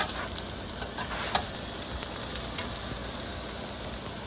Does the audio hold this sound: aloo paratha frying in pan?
yes